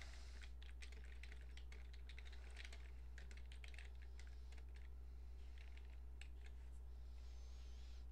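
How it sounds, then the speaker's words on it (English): Text being typed on a computer keyboard, quiet rapid clicking keystrokes in irregular bursts over a low steady electrical hum. "And then type some text in here."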